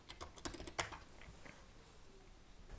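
Quiet keystrokes on a computer keyboard: a few distinct clicks early on, then sparser, softer taps as build commands are entered.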